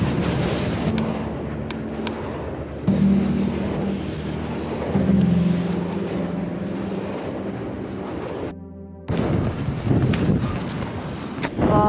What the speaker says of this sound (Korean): 지금 선자령은 바람이 불어요.